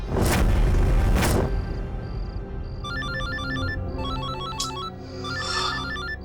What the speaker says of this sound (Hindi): रात को 3:30 बजे भी अनजान नंबर से फोन